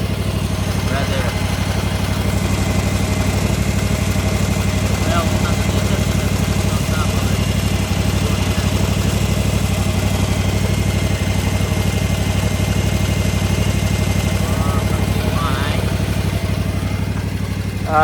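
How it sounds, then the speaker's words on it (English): Gravely ZT HD 44 zero-turn mower engine warming up at a steady idle, a loud, even low rumble with constant vibration, close by, while a person talks faintly over it. "I'm just warming up the engine now."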